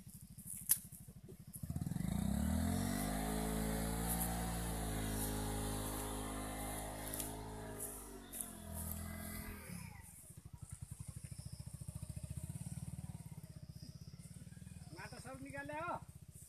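A motorcycle stuck in mud on a hill road near Ramshikhar Jhala in Kailali revs hard for several seconds, then the engine drops to an uneven idle while people talk nearby.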